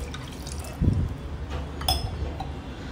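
Water is poured over washed black chickpeas in a pressure cooker, giving a brief close splash and trickle with a light clink of the metal pot.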